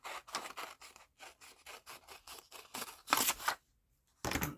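Scissors cutting through wire while making book-page feathers, a run of short, evenly spaced snipping and scraping strokes, then a louder rasping cut, a brief silence, and one final snip.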